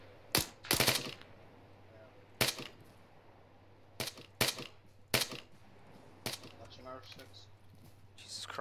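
Gunfire in the ArmA 3 military shooter during a snowy night Delta Force operation: sharp single shots and short bursts crack out at irregular intervals over a steady low hum, with a voice talking between the shots.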